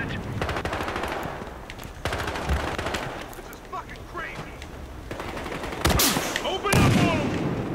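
Rapid machine-gun bursts and gunshots from the video game Battlefield Hardline crackle nearly nonstop, loud and close, with heavier blasts toward the end and a player talking over the shooting.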